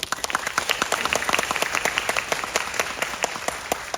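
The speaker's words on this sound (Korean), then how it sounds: "세 분에게 다시 한번 박수 부탁드립니다." An audience at a film festival guest talk in a city hall venue applauds three guests, many hands clapping steadily with sharp individual claps standing out, moderately loud and without speech.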